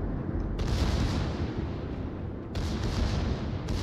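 Naval gunfire from battleships in the game World of Warships, heard as continuous heavy booming and rumbling with sharper onset bursts near the start and again around two and a half seconds, loud and dense throughout.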